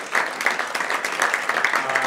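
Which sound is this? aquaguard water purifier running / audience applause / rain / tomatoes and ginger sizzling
audience applause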